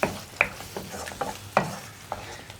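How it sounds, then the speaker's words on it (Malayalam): Ground tomato being stirred into a vegetable curry in a pan, a few distinct scraping strokes of a spoon at irregular intervals over a soft sizzle, close and fairly quiet. "തക്കാളി ചേർത്തിട്ട് നന്നായിട്ട് ഇളക്കി മിക്സ് ചെയ്യുക."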